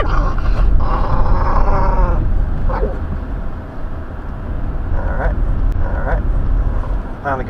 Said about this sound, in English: Finally got my dog to shut up.